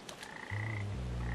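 Frogs croak in the video game Papo & Yo, a steady low croaking that swells midway and holds loud and close, with a faint high tone above and no speech.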